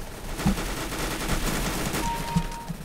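Gunfire in the video game CS:GO during a gun game match, a few close bursts of shots over constant game noise, with no voices.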